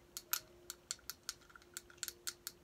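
Fidget toy buttons clicked one after another, a dozen or so sharp, close, dry clicks in an uneven rhythm, with a faint steady hum underneath and no voices.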